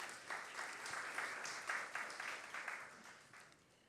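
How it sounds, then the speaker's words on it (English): A conference audience at the Jamaica Diaspora Conference launch gives a sustained round of applause, dense claps with slight swells, moderately distant, fading toward the end. "I think that deserves a big round of applause"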